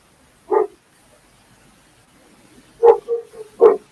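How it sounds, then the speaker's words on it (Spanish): Dogs bark in the background behind an online call: a single bark, a pause, then a quick cluster of three or four barks, moderately loud against an otherwise quiet room. "Se escucha de fondito los perros nomás"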